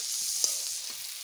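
Ground spices (black pepper, cumin and chili powder) fry in a hot kadai for a paneer curry, a soft, continuous sizzle broken by a couple of brief scraping stirs.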